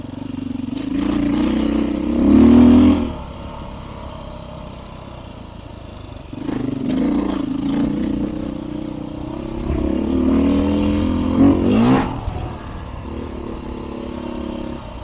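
A Beta 500 RRS dirt bike revs on a mountain trail, its engine rising and falling in several throttle bursts over a steady rumbling idle, close and fairly loud with some clatter.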